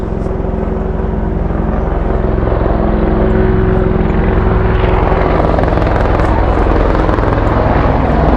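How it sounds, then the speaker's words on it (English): Apache attack helicopter passing overhead in a hurricane-damaged area, a loud, steady engine drone with a low rotor throb that builds slightly as it nears and holds through the whole stretch. "That's a fucking Apache."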